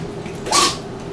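A single short, sharp sneeze bursts out close by in a workshop where a leather backpack is being made, loud and abrupt against a quiet background.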